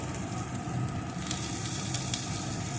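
Chopped tomato and green peas frying in a pan, a dense continuous sizzle and crackle heard up close, with no voices.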